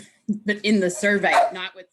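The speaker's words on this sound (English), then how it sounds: "sorry for the dogs" Dogs bark and yip close by in a home during an online session, several sharp barks running together while someone speaks over them.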